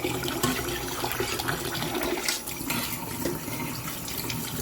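Tap water runs steadily as rice is rinsed, a close, continuous rush and splash with no pause.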